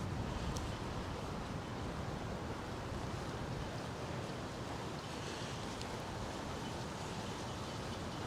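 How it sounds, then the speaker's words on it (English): Strong, cold wind sweeps through an old cemetery with mature trees, making a continuous broadband rush and heavy buffeting against the microphone with no pauses. "It is windy out here."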